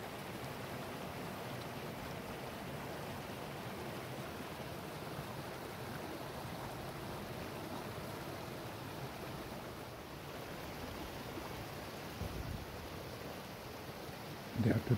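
A steady, soft rush of falling water from McCloud Falls near Mt Shasta continues throughout, even and distant, with a brief rustle of movement near the end.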